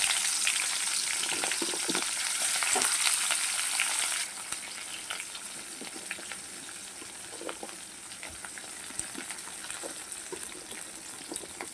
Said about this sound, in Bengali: পেঁয়াজগুলোকে হালকা করে ভেজে নেবে খুব বেশি ফ্রাই করব না